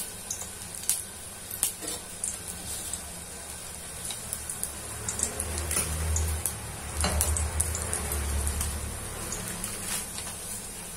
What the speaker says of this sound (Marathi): एक एक तळून घेत आहे मी